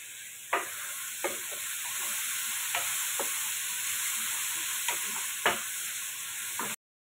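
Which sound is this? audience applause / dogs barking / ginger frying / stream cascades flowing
ginger frying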